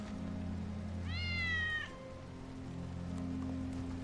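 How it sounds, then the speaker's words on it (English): Wedge's cat in Final Fantasy VII Remake Intergrade lets out a single clear, drawn-out meow over a low steady ambient hum, moderately near and alone without talk. "That's Wedge's cat."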